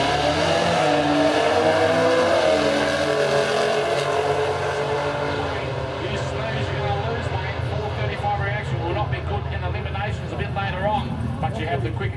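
A nitrous-equipped Pontiac Firebird roars off the line in a drag racing qualifier, its engine loud and climbing through gears before fading down the track, with crowd or commentary murmur underneath.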